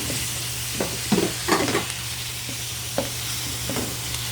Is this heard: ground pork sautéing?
yes